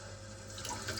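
Water pours steadily from a tap into a sink in a steady broadband rush, swelling slightly toward the end, with no voices.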